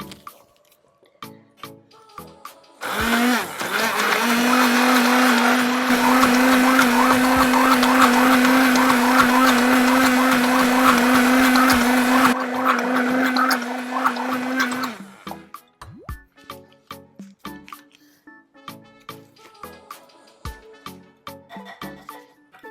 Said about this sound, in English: if you want your applesauce to be smooth, then you can use your hand blender